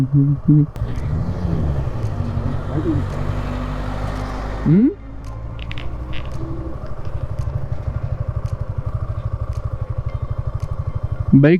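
Motorbikes on a hill road in the Deomali hills of Odisha rev and pass close by, engine pitch sweeping up and down, then a steady idling putter with a fresh rev at the end; voices talk over it.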